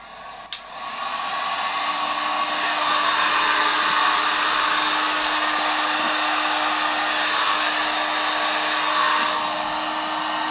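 A hair dryer blowing to dry a pair of wet work boots gives a steady, loud whooshing drone with a faint motor whine. It runs alone and unbroken after a brief click at the start.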